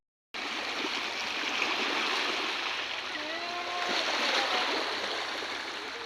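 Sea near a cave on a Tung Lung Chau coastal hike in Hong Kong: a steady broadband wash of water and surf runs throughout, fairly close and even, with faint thin tonal sounds briefly above it midway and no talk.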